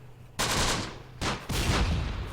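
Gunfire in the Close Combat: The Bloody First war strategy game set in the desert, three sharp broadband bursts of shooting in quick succession over a low background hum, fairly close and loud.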